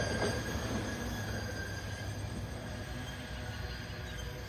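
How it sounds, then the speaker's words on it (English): A CSX hi-rail track inspection truck rolls along the rails past a lowered crossing gate, a steady rumble of wheels on track that fades slightly as it passes. "Oh, it's a high railer."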